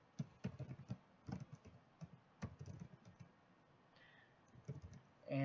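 Typing on a computer keyboard to enter a project name, bursts of soft close key clicks in short uneven runs with brief pauses, quiet and alone.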